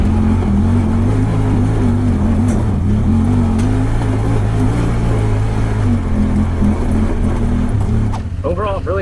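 Honda Talon 1000R-4 side-by-side's engine droning steadily while driving, loud and close with a constant low hum that changes little, then fades at the end as a voice briefly sounds.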